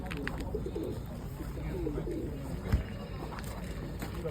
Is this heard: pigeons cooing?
yes